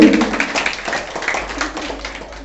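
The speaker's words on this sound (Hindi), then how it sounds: "जोरदार तालियां बजाएंगे।" Hearty clapping from a gathering at a Republic Day function, a short burst of overlapping hand claps that fades gradually over a couple of seconds.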